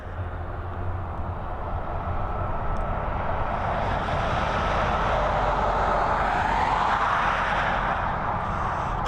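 An airliner takes off from runway 10R at Dublin Airport, its engine roar swelling from a distant rumble into a loud, broad jet roar that peaks and then slowly fades, with no one talking.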